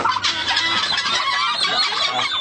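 Male turkeys at a Bengal turkey farm squabble at close range, with dense overlapping gobbles and harsh throaty calls packed into a short, busy burst.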